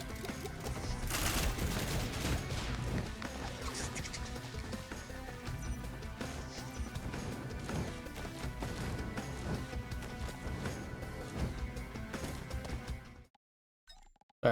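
Turrets in Risk of Rain firing without pause, a loud, dense fusillade of rapid shots and impacts packed together for many seconds. The noise cuts off abruptly near the end.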